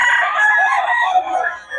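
A rooster crows loudly and close by in one long, drawn-out call.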